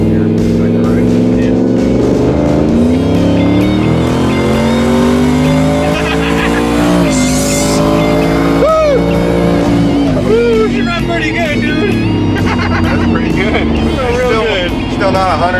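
A twin-turbo Chevrolet Vega accelerating hard on a street in Mexico, its loud engine note climbing through rising gear sweeps and staying close and dense for the whole stretch, with voices talking over it.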